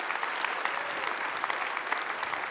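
A keynote audience at a tech summit in San Francisco claps in a brief, even burst from a large hall, with a murmur of voices under it.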